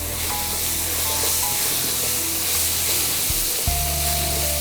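Sliced onion, ginger and garlic sauté in hot oil in a pan, producing a steady, close, crackling sizzle that runs unbroken from start to finish with no talking.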